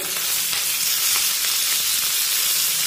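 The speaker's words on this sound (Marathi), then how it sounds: "आणि पुन्हा एकदा मिरची परतून घेऊया। मिरची आपल्याला चांगली भाजून घ्यायची" Green chilies fry in a spoonful of oil for a tomato thecha, a loud, dense, close-up sizzle with faint stirring scrapes and no talk.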